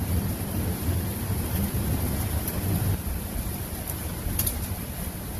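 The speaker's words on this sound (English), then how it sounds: "Man, it is just downpouring right now." Heavy rain pours down in a thunderstorm, with thunder rumbling through a dense, steady roar of falling water. The sound is loud and continuous, and no voices can be heard.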